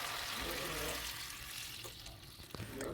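Horsegram cooking water pours into tomato rasam in a kitchen, a soft continuous splashing gush that tapers off, with a faint clink near the end.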